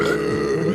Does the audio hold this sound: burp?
yes